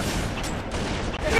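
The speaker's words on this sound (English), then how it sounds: "I threw some more grenades" Halo 3 gunfire with grenade blasts from a multiplayer match, a dense continuous rattle of shots and booms that stays loud and steady, with voices faintly mixed in.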